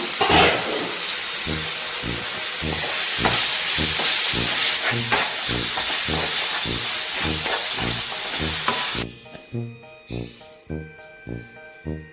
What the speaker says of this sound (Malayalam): തക്കാളിയും കൂടി ചേർത്തിളക്കിയിട്ട് ഒന്ന് അടച്ച് വെച്ച് വേവിച്ചെടുക്കാം